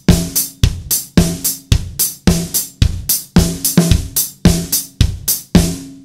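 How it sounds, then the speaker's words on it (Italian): A busy funk groove on a drum kit, with snare and bass drum striking in unison for punchy combined accents. Quick hits follow in a tight, repeating pattern, played close and loud with no speech. "Avete l'unisono tra rullante e cassa sempre"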